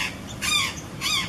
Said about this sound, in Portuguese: Esse é o Azuri Jay